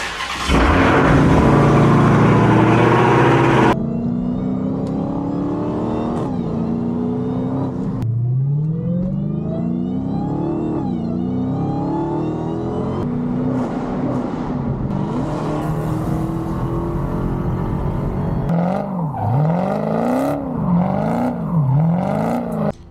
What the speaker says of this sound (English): Gonna get y'all that cold start,